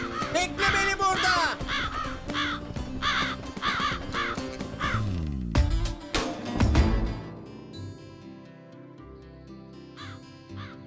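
Several crows caw in a Keloğlan cartoon, loud, repeated harsh calls stacked closely together under bright music, then a falling sweep and fading tones as the cawing thins out; a voice is faintly present.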